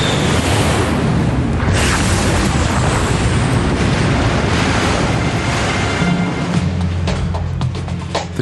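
An aircraft slams into the ocean in a massive impact, heard as a loud, sustained roar of crashing water and rumbling booms that runs for several seconds before easing into a lower surging wash.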